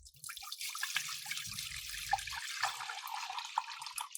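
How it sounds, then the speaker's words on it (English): Water is poured into a cooking pot at close range, a steady trickling and splashing stream with light bubbling under it, continuous for several seconds with no voices. "Add water."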